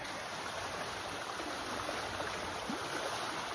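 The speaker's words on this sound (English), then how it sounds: "that's just a little creek down at where we're at. So you can hear it flowing" Small creek flowing near a trailer home, a steady broadband rush of running water that holds evenly throughout without any voices.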